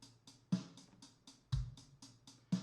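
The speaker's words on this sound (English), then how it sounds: "is the hi-hat closed" Quiet, tight ticks of a closed hi-hat in a steady eighth-note pulse, with a soft low drum thump landing on every other beat.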